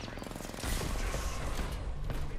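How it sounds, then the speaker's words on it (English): Gunfire in an Apex Legends match, with rapid overlapping shots in dense bursts and a thick, rumbling low end, while a player talks over the shooting. "They're shooting to your right."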